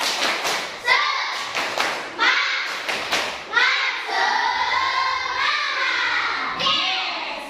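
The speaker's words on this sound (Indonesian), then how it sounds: "Ayo, konsentrasi, tepuk semangat dulu. Tepuk semangat." Schoolchildren in a classroom clap a rhythmic patterned spirit clap, sharp claps and thumps in sets broken up by children chanting together, loud and close.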